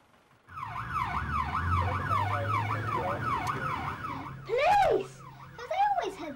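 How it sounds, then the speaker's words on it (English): An emergency siren wails in rapid rising-and-falling cycles, loud and close, then shifts to slower, sharper sweeps as it passes, over a low engine rumble. "sirens."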